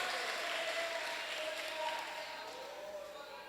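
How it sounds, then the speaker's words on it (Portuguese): A church congregation claps together during a worship service, a steady wash of applause that stays fairly even and then tapers slightly, with a sustained tone, probably music, underneath. "Vamos dar uma linda salva de palmas para Jesus nessa noite."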